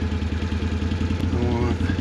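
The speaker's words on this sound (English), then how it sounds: "There it is, engine braking" A 2023 Can-Am Outlander XT850 ATV engine braking on a deep woods trail, a steady low mechanical drone with pulsing exhaust and light clatter, close up under someone talking.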